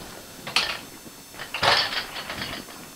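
An Abba Sky Lift motorcycle stand being released from under a BMW GS, giving a few close metallic clunks and ratcheting clicks, with a louder knock near the middle and quieter rattles after.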